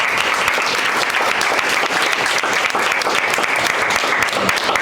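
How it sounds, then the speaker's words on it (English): A school district strategic plan meeting audience gives a round of applause, loud continuous clapping filling the room at an even level throughout. "Can you give these for a round of applause, please?"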